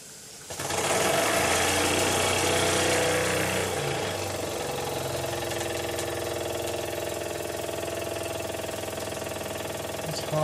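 A Jensen car engine held at half throttle, a loud, steady mechanical drone with a busy rattling texture, rising sharply at the start and then running evenly close by for ten seconds.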